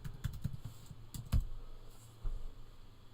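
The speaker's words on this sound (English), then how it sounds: "Let me see if I can type." Computer keyboard keys being typed in short irregular bursts of soft clicks, close and fairly quiet, with a few louder strikes and no voices.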